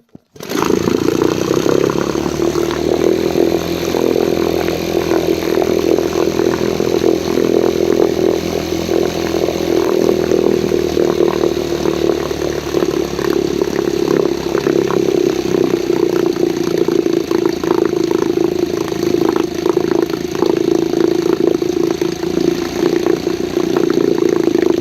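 Antique Elto Evinrude 1.5 hp canoe outboard motor running steadily after starting, a loud, continuous buzzing drone that holds nearly constant for the whole stretch with no talk over it.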